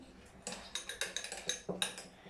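A mixture with disinfectant stirred in a container, giving a quick series of light clinking, scraping strokes in a steady rhythm, close and fairly quiet.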